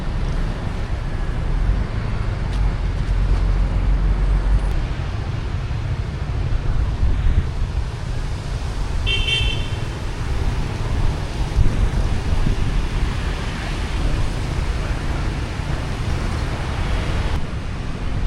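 Strong wind along a seaside embankment in Vietnam buffets the microphone in a constant, heavy low roar, gusting slightly louder at moments with no voices.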